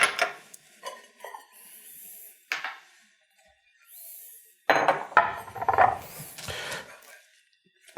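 A plate picked up in a home kitchen while scrambled eggs finish cooking, with scattered light clinks and scrapes of crockery, then a busier cluster of handling noises, close and fairly quiet.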